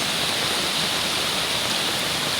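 Floodwater pours steadily down to the ground below during a flood, making a continuous hissing roar that holds at an even level without a break.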